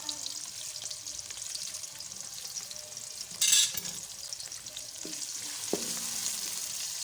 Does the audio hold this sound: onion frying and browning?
yes